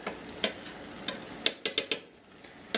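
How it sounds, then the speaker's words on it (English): Elbow macaroni is stirred in a pot of water on a stovetop for hamburger mac and cheese, a spoon giving sharp irregular clacks against the pot over a soft background hiss. "Stir immediately, or just a few seconds."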